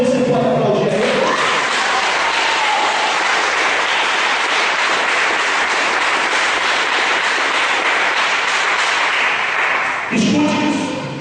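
A church congregation applauds in a dense, loud wash of clapping that swells quickly and holds for about nine seconds before fading, with a voice briefly heard at the start and end.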